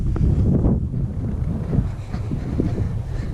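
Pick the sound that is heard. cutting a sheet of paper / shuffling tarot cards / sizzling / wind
wind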